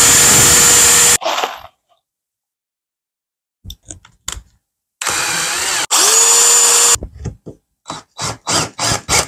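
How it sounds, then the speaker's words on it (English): A power drill pilot-drills holes into a steel gate frame in loud whine bursts, first a long run, then a second run after silence, followed by a string of quick short trigger pulses. "we'll just pilot drill them."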